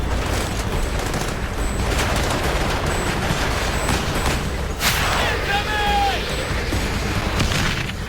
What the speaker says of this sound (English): They're under heavy mortar fire.